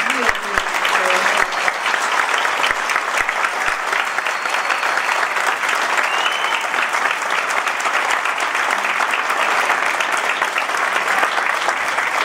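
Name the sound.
audience applause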